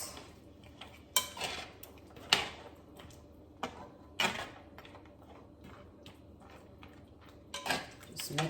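Sweet pepper being stirred into a pot of oxtail, with sporadic clanks and scrapes of a utensil against the pot between quiet stretches.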